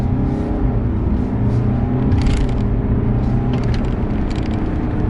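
A 2017 BMW 520d diesel car on the move, a smooth, steady low engine and road hum heard from the cabin, quiet and even with faint brief rustles on top.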